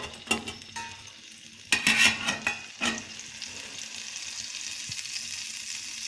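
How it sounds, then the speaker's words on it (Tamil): Crackling and popping in a hot pan as mustard seeds and urad dal sputter in oil for tempering, with a few sharper bursts over a steady sizzle. "நல்லா கடுகு வெடித்து வரட்டும்"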